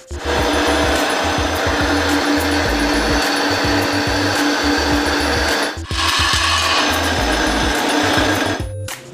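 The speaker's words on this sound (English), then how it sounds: "We'll be doing the same thing with the file on the inside of the frame." A hand file scrapes back and forth inside the steel neck of a Harley bagger frame, rapid rough rasping strokes in a steady rhythm, loud and close, with a brief pause partway through.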